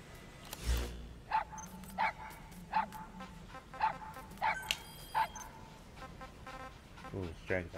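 A dog in Metal Gear Solid V lets out a regular series of sharp barks, about one every 0.7 seconds, with a game sound at the start and quiet background ambience beneath.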